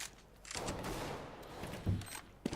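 Faint bursts of gunfire in Counter-Strike: Global Offensive on Dust 2, from a TSM vs Fnatic pro match during a tunnel retake with an MP9. A few sharp shots sound quietly against low background game noise.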